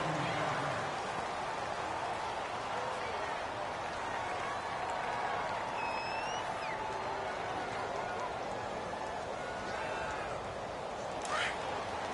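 A stadium crowd roars in a steady, dense wash throughout a PS4 football video game matchup between the Redskins and the Minnesota Vikings, with brief whistle-like tones faintly rising above the din.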